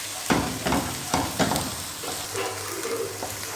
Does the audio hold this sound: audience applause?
no